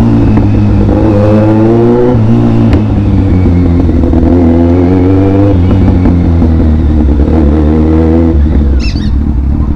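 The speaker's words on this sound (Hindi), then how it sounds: "ये कैसी मशीन है, ये कैसी बाइक है भाई। भाई पटाखे भी मारती है" A Benelli 600 superbike engine on a city street is loud and close, revving continuously with rising and falling pitch, with a couple of brief sharp cracks like backfires.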